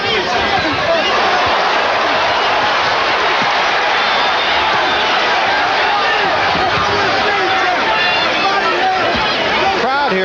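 A boxing arena crowd at the Omni roars in a dense, continuous wash of cheering and babble during a heavyweight fight between Tony Tubbs and Tim Witherspoon, loud and unbroken for the whole stretch.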